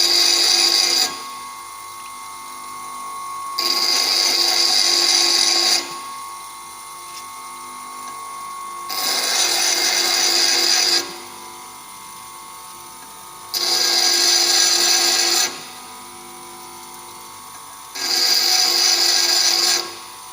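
A flat lathe chisel is ground to shape its angle in repeated passes of a high, hissing grinding sound, each lasting two to three seconds, over a steady lower hum between passes, with no talk.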